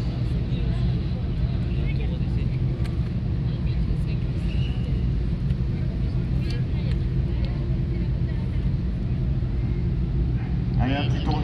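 Kart cross car lapping a dirt race track at La Laupie, heard as a continuous engine drone and rumble with commentary over it throughout.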